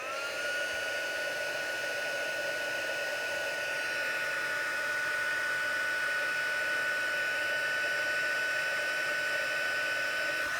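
Heat tool blowing steadily to melt white craft ink on card, a continuous loud whooshing hum with a faint high whine running unbroken throughout, no talk.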